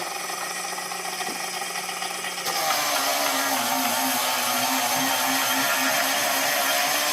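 A Kinkajou wet sander with 400 grit starts up after a quieter hum, then runs with a steady loud motor whine and gritty buzz, continuous and close.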